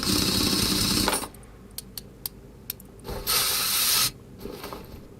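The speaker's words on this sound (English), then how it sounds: "We're going to need our lubricating spray." Mechanical ratcheting and unbolting of a brake part in Car Mechanic Simulator 2021, opening with a sustained whir, then sharp isolated clicks, followed by two bursts of lubricating spray hiss, with no talking.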